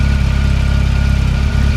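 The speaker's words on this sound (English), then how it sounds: "So I've got the engine running." A car engine idles steadily on its own, a close, loud, even low rumble with a fast regular pulse that holds for about two seconds with no talk.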